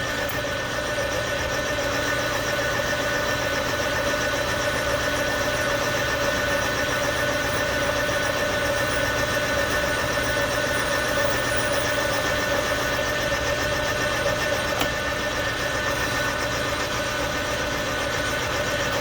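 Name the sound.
lathe taking a light cut on a lawnmower pulley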